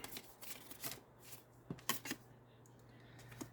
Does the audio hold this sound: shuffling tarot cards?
yes